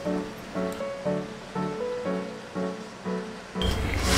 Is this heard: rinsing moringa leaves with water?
yes